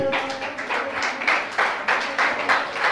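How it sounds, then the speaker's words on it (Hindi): Audience applause at a Jain religious honoring ceremony, steady clapping in swelling bursts that fill the hall, with little talk above it. "आपकी तालियां अनवरत बजती रहनी चाहिए"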